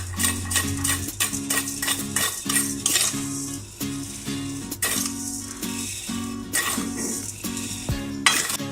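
Rice is roasted in a pan over medium heat, a utensil scraping and rattling against the metal in rapid rhythmic strokes, close and busy throughout with no talking.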